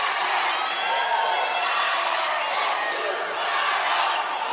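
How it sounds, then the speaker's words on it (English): Large crowd at a Southern vs Alcorn State SWAC Championship women's college basketball game cheers loudly and steadily, a dense roar with whoops and shouts that holds for several seconds. "this crowd is amped up"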